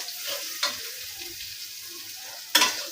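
Leafy greens go into oil with fried chilies and crackle in a steady sizzle. Two louder bursts mark the stirring, and the sound stays close with no voices.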